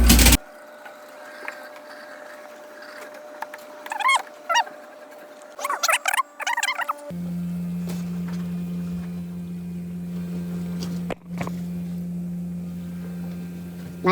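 An old Scotsman ice machine runs a cycle: a few scattered clicks and chirps at first, then a steady, close mechanical hum settles in and drones on evenly with a brief dip partway through.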